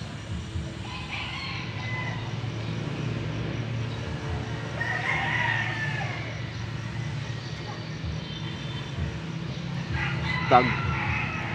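Roosters crowing at a busy open-air market in Angeles City, Pampanga, drawn-out calls rising over a constant crowd murmur, with people talking nearby and a sharper crow near the end.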